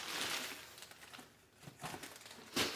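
Plastic bags holding rocks for tumbling, including Snowflake Obsidian, shuffle and crinkle in irregular bursts, with a quieter gap midway and a sharp crackle near the end, fairly faint and close by.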